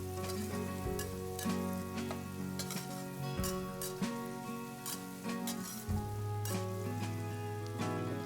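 Yellow chives stir-fried with salt in a hot pan sizzle steadily and loudly, with a spatula scraping and tossing in a repeated rhythm up close.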